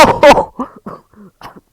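A person coughs twice in quick, loud bursts close up, followed by short spoken syllables.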